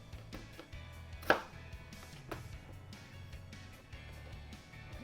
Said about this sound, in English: And just cut up the tomato.